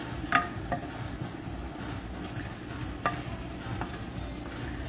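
Food cooking down in a pan, giving off a steady low simmer and sizzle with occasional soft clinks and stirring taps from a utensil, close and moderately quiet.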